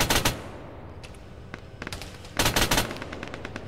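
Bursts of vehicle-mounted gunfire in an Arma-style military video game on a foggy battlefield, with a loud volley at the start, scattered single shots, then a second heavy burst of rapid fire.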